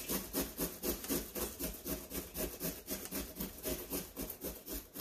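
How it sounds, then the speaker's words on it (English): Green cabbage shredded against a hand grater, a steady run of rhythmic rasping strokes, about four per second, close and fairly loud, with no talking. "I'm just about done with this green cabbage that I'm shredding"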